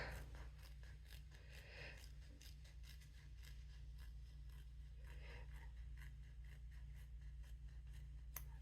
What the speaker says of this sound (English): we want to do a little snips here